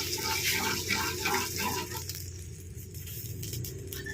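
Water pours steadily into a cooking pot to make the broth for a tilapia soup, a continuous close splashing fill that runs throughout and grows a little softer toward the end.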